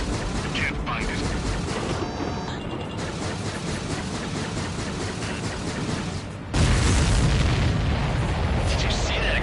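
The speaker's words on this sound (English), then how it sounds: "Did you see that explosion? Looks like that's one of them down." A dense, continuous roar of rumbling blasts and mechanical noise from an aerial battle in Ace Combat 7, where an enemy supply ship explodes, swelling louder near the end with voices partly audible under it.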